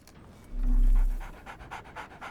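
A dog in the Sherlock Holmes: The Awakened video game pants in a quick, close rhythm across the moment, briefly over a low rumble, its breaths coming as soft regular bursts with a faint whimper.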